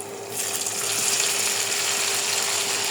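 Beef meat dropped into hot oil with browned garlic sets off a loud, steady sizzle that starts abruptly and holds for several seconds, broad and close with no talking.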